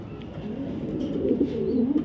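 A pair of Mili racer pigeons coo softly and continuously at close range, a low rolling murmur that swells slightly toward the end.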